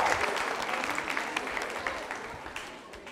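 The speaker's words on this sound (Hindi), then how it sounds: "मोनिका शेखावत के लिए जोरदार तालियां बजाइए" An audience applauds a quiz contestant at a girls' teachers' training college anniversary in Jaipur, dense sustained clapping from a crowd that tapers slightly toward the end.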